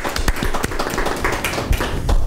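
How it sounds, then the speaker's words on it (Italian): A studio audience claps in a short burst of scattered, fairly close hand claps over about two seconds, uneven and not yet a full roar. "Ricordiamolo tutti con un bel applauso."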